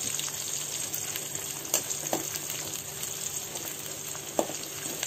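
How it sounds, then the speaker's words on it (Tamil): Small native onions fry in oil for a village-style Tamil fish curry, a steady close sizzle running throughout with a few faint clinks and stirring taps, no voices. "வெங்காயம் நல்லா ப்ரௌனாக வணக்கணும், ஸ்லோவில் வச்சு நல்லா ப்ரௌனாக வணக்கிக்கணும்."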